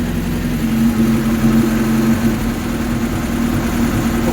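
A car engine idles steadily and fairly loudly, a constant low hum with a firm harmonic drone, close by and alone with no speech.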